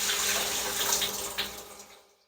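Rinse water pours out of a jar of sprouting seeds, a steady splashing gush with a few gurgles that tapers off to quiet.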